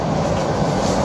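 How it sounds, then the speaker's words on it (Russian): Inside a Tokyo metro train, a steady rumble of wheels and carriage noise rolls on without a break, with no talking. "А сейчас я сижу уже в метро"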